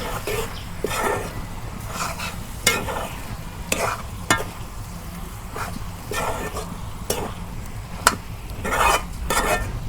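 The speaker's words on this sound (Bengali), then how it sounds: "এইভাবে আমি ভালো করে কষে নেব, নিয়ে আমি একবার পানি দেব।" Chicken pieces sautéed dry in a pan with no water, a spatula scraping and stirring in repeated strokes over a steady sizzle, close and moderately loud.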